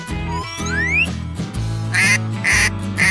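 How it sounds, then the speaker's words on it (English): Two loud, nasal duck quacks ring out in quick succession over a bed of synthesized music with a rising electronic tone. "Duck."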